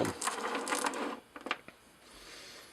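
The chuck of a rotary table is tightened or loosened, giving a close, dense burst of ratcheting mechanical clatter for about a second, then a few sharp, separate clicks before falling quiet.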